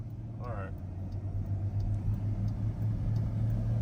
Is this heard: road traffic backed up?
yes